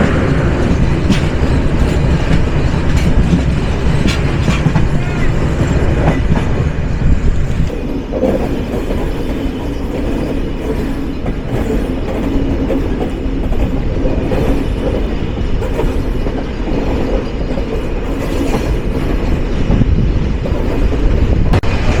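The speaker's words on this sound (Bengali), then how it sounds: "2900 শ্রেণীর লোকোমোটিভ নিয়ে গেল" Intercity Burimari Express, train number 80810, passing behind a 2900-class locomotive: a loud, steady rumble with rhythmic wheel clatter and a broad roar that dips briefly before surging on.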